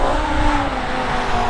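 A BMW M5's 5-liter naturally aspirated V10 engine of Formula One design roars loudly and close up, holding a dense, steady high-revving drone throughout.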